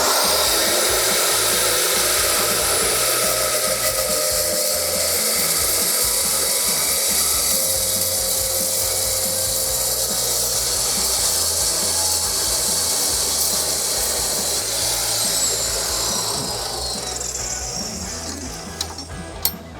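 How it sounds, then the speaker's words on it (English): A Diablo 14-inch, 72-tooth Cermet metal-cutting circular saw blade cuts through metal with a loud, sustained, harsh whine and hiss that holds steady and then tapers off near the end. "This is our 14-inch, 72-tooth Cermet metal cutting circular saw blade."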